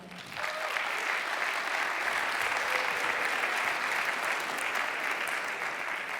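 A conference audience claps steadily to welcome a speaker at a parish communities summit session, the applause rising quickly and holding as a broad, even wash throughout.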